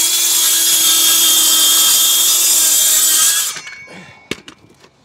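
A brushless handheld power saw cuts through sheet board during a garden room build, a loud steady whine for about three and a half seconds that stops abruptly, followed by a few faint knocks and handling sounds.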